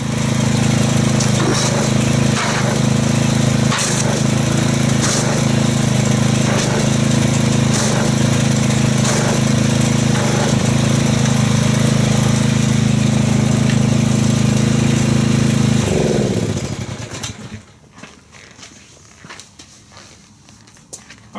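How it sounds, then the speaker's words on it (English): Pressure washer motor running loud and steady close by while foam is sprayed during a car wash, droning for most of the stretch before winding down and cutting off near the end. "let's crank the pressure washer up and see how much foamage we get from this"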